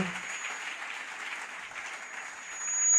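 Church congregation applauding and cheering during a French-language prayer service, a steady broad wash of clapping and voices that swells louder toward the end.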